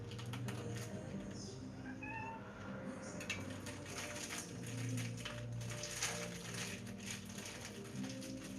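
A cat meows a few times at mid distance in a cluttered home during cooking and cleaning, faint short calls over steady background hum and household noise, with no talk.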